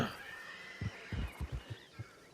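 Faint agitated horses, heard mostly as a handful of soft, irregular hoof thuds with a wavering whinny-like tone early on, somewhat distant.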